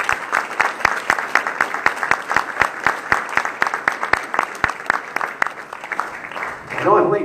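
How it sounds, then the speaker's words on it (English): An audience at a Kenai forum for lieutenant governor candidates claps for the candidates, a sharp, fairly sparse run of close claps with a near-regular rhythm. It thins out near the end, where a voice begins. "give them all a big round of applause"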